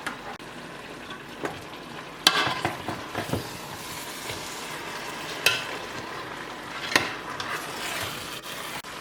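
Braised pork ribs being stirred as they fry in a pan, a steady sizzle with sharp scraping clinks of the utensil against the pan at irregular intervals, close by.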